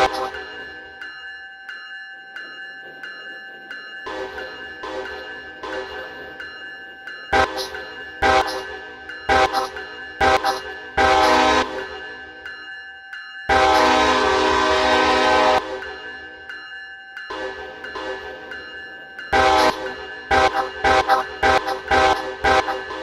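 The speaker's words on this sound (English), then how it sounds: "I'm gonna do a horn show real quick." A CSXT train horn show in a Roblox game: loud multi-tone horn chords sound in repeated short and medium blasts, with one long sustained blast midway and brief gaps of near silence between them.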